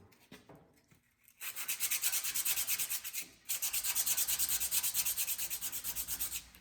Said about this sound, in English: I'm sanding off the Cornwall Tools logo and everything